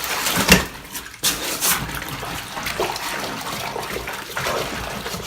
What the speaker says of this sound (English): Scrub both sides of that.